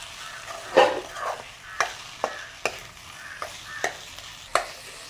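Seeni sambal being stirred with salt in a pan, soft frying sizzle beneath a series of sharp spoon scrapes and taps roughly every second, close and clear, no voices.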